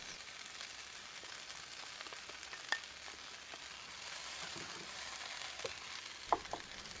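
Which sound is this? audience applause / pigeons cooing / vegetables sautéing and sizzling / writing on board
vegetables sautéing and sizzling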